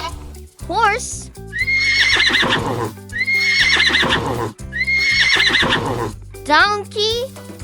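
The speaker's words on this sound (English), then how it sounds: "Horse." A horse neighs twice in loud, quavering whinnies set over music with a clip-clop beat, framed by short playful chirps at the start and end.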